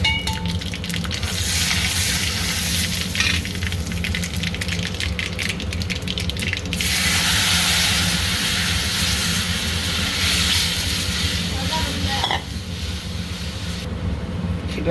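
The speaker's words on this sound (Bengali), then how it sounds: "রসুন দিয়ে দিচ্ছি তেলে, শুকনো লঙ্কা, কড়ি পাতা, একটু হিং" Garlic, dried red chili, curry leaves, asafoetida and mustard seeds sizzle and crackle in hot oil for a tempering, a loud continuous frying hiss with bursts of spattering, close to the pan.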